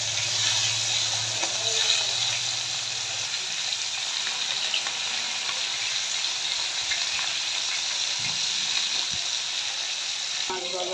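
Pieces of hilsa fish fry in hot oil with a continuous, even sizzle that stays close and steady throughout, with occasional faint clinks and low knocks underneath.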